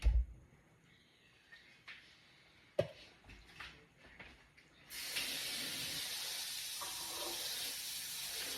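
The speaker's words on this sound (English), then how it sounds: "Let me give my hands a wash." A few quiet knocks and clatters at a kitchen sink give way to a kitchen tap gushing steadily at close range for hand washing, a constant bright hiss with no talk.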